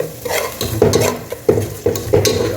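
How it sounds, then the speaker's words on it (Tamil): Oil pours into a hot pan at a street food stall where mutton spleen pepper gravy is being cooked, loud close sizzling with repeated stirring scrapes in bursts and no talk. "இப்போ ஆயில் ஊற்றுறேன்"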